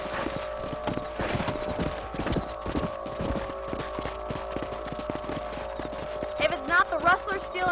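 Rhythmic clip-clop of horse hooves at a steady pace in the video game Red Dead Redemption, over a constant musical backdrop, with a brief whinny near the end.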